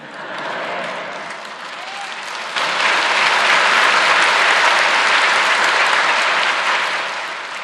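Quieter clapping and a voice open the moment, then a church congregation breaks into full, loud, sustained applause during a Sunday sermon, holding steady before easing off near the end.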